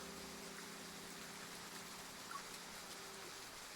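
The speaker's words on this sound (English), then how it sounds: "It's raining again" Steady rain patters in a faint, dense hiss with a soft low hum underneath, even and unbroken, with no voices.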